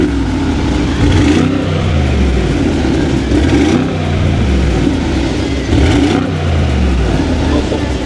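A McLaren exhaust revs in comfort mode, rising and falling in three loud surges with only subtle pops, close by and continuous throughout.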